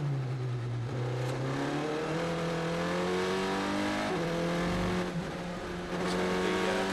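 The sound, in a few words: Formula 3 race car engine, onboard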